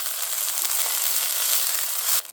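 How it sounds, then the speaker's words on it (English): White parts of spring onions stir-fry in a hot pan until slightly charred, making a loud, dense, continuous sizzle close by that fades abruptly at the end. "stir fry some white parts of spring onions until they are slightly charred"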